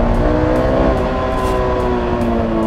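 Honda S2000 engine, 240 hp with a 9000 rpm redline, pulling in second gear. The loud, steady engine note holds throughout at close range, with a sustained buzzing tone and no speech.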